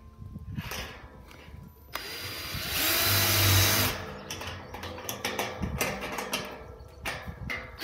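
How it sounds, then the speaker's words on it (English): A power drill whirs steadily through the metal of a drum smoker, its pitch rising and grinding for a couple of seconds amid clicks and clatter of handling tools. "We'll drill another hole"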